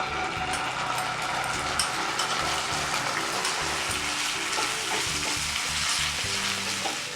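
Momo stuffing mixture sizzles and fries steadily in a pan over lowered heat, a dense continuous crackle with occasional stirring scrapes and no talk.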